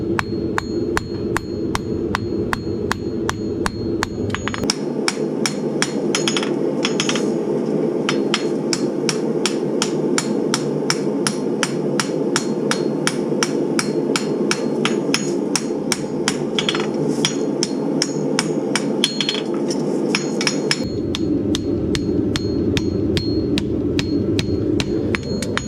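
Steady, rapid hammer blows ring out on a handmade horseshoe as it is folded over on the anvil for a horse with sidebone, loud and close, with a quicker, denser run of strikes through the middle.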